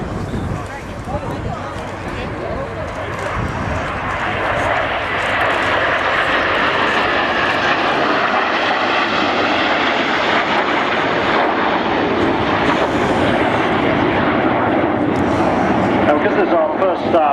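Team Viper display aircraft roar past at an air show, a loud sustained engine drone that builds and holds throughout, with a voice commentating over it.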